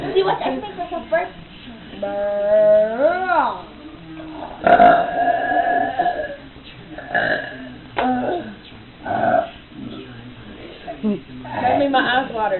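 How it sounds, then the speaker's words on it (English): Young voice forcing out long, deliberate burps with rising and falling pitch, close and loud, broken up by bursts of speech and laughter. "See what I make myself burp?"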